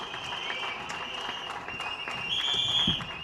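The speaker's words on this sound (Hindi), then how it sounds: "आप अपने लिए तालियां बजाइए" An audience claps at a Lok Satta Party seventh anniversary gathering, a steady spread of applause beneath a ringing tonal hum from the sound system, swelling slightly louder toward the end.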